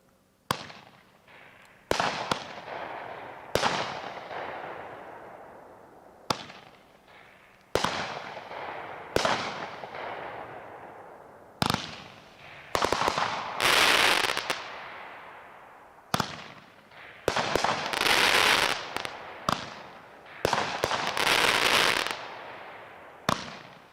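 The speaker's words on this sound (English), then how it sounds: "Next item on the list is Double Down by Great Grizzly. This is another new item this year. This is an 8-1 18 shot finale repeater." Great Grizzly Double Down, an 18-shot finale repeater firework, fires a long series of sharp booming launches and bursts at a fairly steady pace, each followed by trailing crackle, heard from a distance outdoors.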